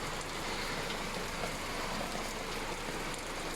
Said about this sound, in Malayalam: നല്ല കനമുള്ള മഴയാണ് പെയ്തുകൊണ്ടിരിക്കുന്നത്.